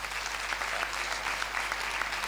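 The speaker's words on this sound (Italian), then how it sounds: "Io gli farei anche un altro applauso" An audience applauds alpine choirs, a dense and continuous burst of many hands clapping that fills the hall evenly and stays loud from start to finish.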